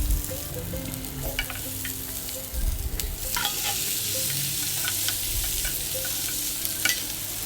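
Roughly cut onion and tomato sautéing in a kadai with a spoon of oil, a loud steady sizzle broken by repeated stirring scrapes and clanks of the spoon against the pan, no voices.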